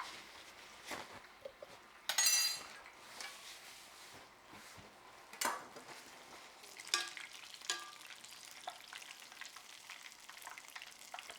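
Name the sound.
haddock fillets frying in oil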